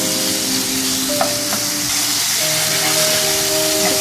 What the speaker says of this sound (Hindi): चिकन को इतनी देर तक पकाएंगे कि ये अपनी रंगत तब्दील कर ले।